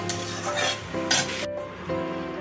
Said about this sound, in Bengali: গুলে রাখা এই লঙ্কা হলুদটা আমি এর মধ্যে দিয়ে দিচ্ছি। একটু ভালো করে আলু পেঁয়াজের সাথে একটু কষে নিচ্ছি।